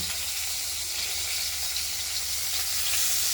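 Potatoes fry in a pan of oil while a rohu fish curry is being made, giving a continuous loud, even sizzle and crackle with no voices.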